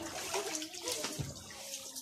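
Children splash and play in bathwater on a summer day, a steady close wash of watery noise filling the whole moment with no clear talk over it.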